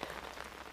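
Steady rain patters over a cemetery in Stoke Newington, a brief, soft, even hiss of drops with no voices.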